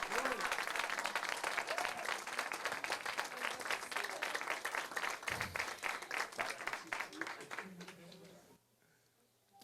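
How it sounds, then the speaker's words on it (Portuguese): Sustained applause from a church congregation at a couples' gathering, dense clapping filling most of the stretch with some voices mixed in, then dropping away abruptly near the end. "Dê uma salva de palmas"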